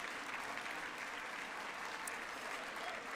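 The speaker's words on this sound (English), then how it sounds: "Let's give a big round of applause to all of our sponsors." A gala audience at an annual charity fundraiser applauds its sponsors, a dense, steady round of clapping from a large crowd that holds at an even level throughout.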